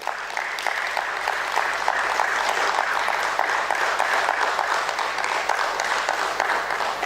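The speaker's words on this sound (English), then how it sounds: "So ladies and gentlemen, can we give them a huge round of applause?" A crowd at a stock exchange listing ceremony for Network People Services Technologies at BSE applauds in an even, continuous round of clapping that holds at steady loudness for several seconds, with no talk over it.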